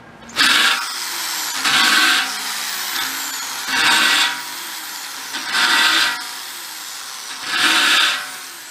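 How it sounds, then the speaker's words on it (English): A power drill fitted with a larger bit chamfers a hole in new sheet metal on a 1962 split-window bus, running in five loud, even bursts of about a second each with brief pauses between them. "And then to chamfer it, just put a bigger bit on there."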